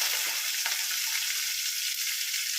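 Onions frying in hot oil, a dense, even, close sizzle with a couple of soft utensil taps, no voices.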